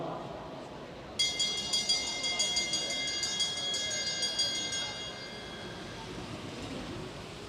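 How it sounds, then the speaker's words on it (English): A bell rings out repeatedly, with about a dozen quick, bright strikes that fade after several seconds, signalling the final lap of a junior international cycling race, over steady crowd and venue noise. "So they get the bell."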